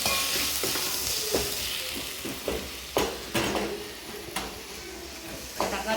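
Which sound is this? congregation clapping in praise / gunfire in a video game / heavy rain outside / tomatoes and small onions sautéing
tomatoes and small onions sautéing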